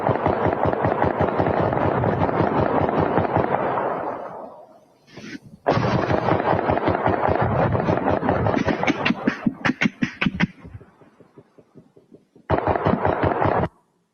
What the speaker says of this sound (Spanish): Escuche y vea la potencia de los disparos.